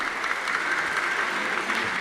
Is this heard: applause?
yes